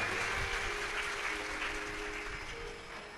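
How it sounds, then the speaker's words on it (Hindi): Audience clapping at a live Shiv Mahapuran religious discourse, dense sustained applause from a large crowd, steady and fairly loud, tapering slightly at the end. "एक बार इनके लिए जोरदार ताली बजाए।"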